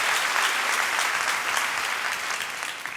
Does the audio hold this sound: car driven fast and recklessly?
no